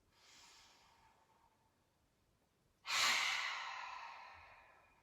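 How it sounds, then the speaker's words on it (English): A deep yoga breath drawn in softly through the nose, then a loud, long sighing exhale a moment later, both close and alone with no talk during a hatha yoga class. "So let's take a nice deep breath in and squeeze the shoulders up really tight by the ears."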